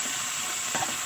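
Spices frying in a pan for a soyabean curry, stirred with a spatula, giving a steady close sizzle with a brief scrape near the end.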